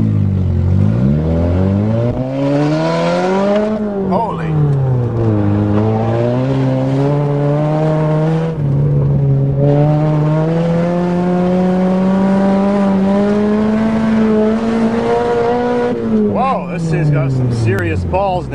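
A Toyota GTS car engine revs and climbs through several rising pulls over about eighteen seconds, loud and close, with brief shifts between surges.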